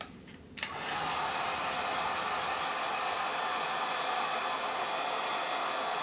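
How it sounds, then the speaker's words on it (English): A heat gun blows gently on a latex corpse-style zombie hand. After a brief quiet start it switches on abruptly into a close, steady, airy roar that continues unchanged. "And just hit it gently with the heat gun again."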